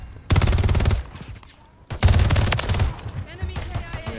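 Automatic gunfire from Call of Duty: Modern Warfare 3 comes in two loud, rapid bursts separated by a short lull, with quieter game noise trailing after.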